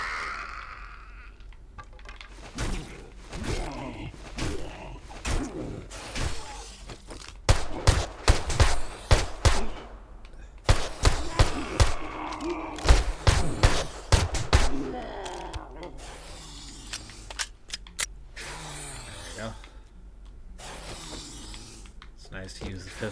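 Repeated pistol gunfire in a video game, with sharp shots coming in irregular bursts and clusters over a steady game soundscape, while a voice talks throughout.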